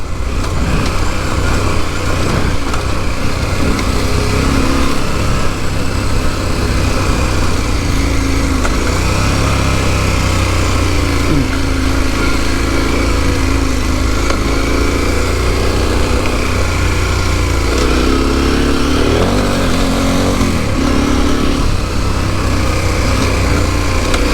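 A KTM 1090R adventure motorcycle riding downhill on a green lane, its engine droning loud and steady throughout, mixed with heavy wind rumble and rough terrain noise.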